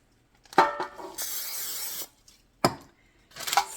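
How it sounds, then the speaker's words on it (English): Cooking spray hisses onto a baking pan that is being lined with parchment paper. A sharp knock comes first, then a steady spray burst of about a second, then further short knocks and a brief final hiss. "I spray the pan,"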